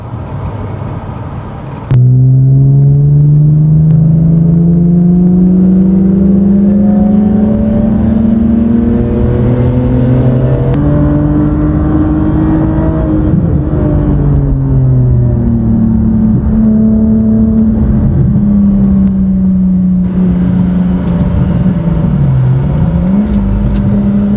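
A sporty BMW car on coilovers accelerates loudly, its engine note rising and stepping through gear changes with downshifts, then settling into a steady close drone before revving again near the end.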